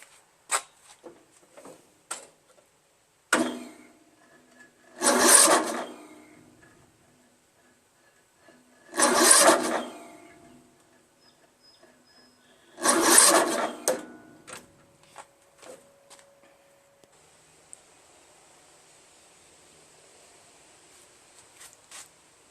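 Starter motor on a Craftsman LT1000 16 HP lawn tractor, weak and with the spark plug removed, cranking the engine in three separate bursts of a few seconds each, loud and close, with small clicks and knocks in between.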